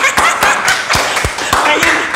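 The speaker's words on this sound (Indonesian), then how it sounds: "Tepuk tangan lagi." Audience clapping at an interview event about a volleyball lover, sharp distinct claps in a loose steady rhythm, close and loud, with faint chuckling under them.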